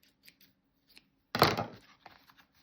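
Scissors snip once through craft fabric trimmed for a handmade journal cover, one close, crisp cut after a few faint handling taps, then quiet rustling.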